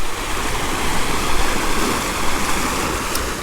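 Sea waves crash and churn along a rocky shore at a Bonaire shore-diving site near Salt Pier, a loud, continuous broadband roar of surf close by with no talking.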